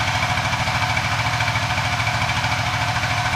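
Suzuki FU 150 fuel-injected motorcycle with a 68mm bore-up settling into a cold-start idle, a steady, close, rapidly pulsing engine chug with a slight knocking texture and no talking.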